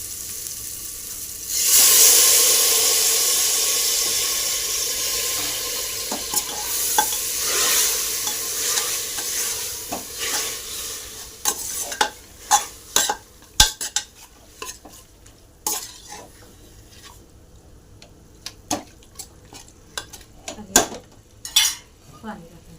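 Mutton frying with salt in a pot hisses loudly once it goes in, then settles into a quieter sizzle while a spoon scrapes and clanks against the metal in repeated sharp strokes, with no talk.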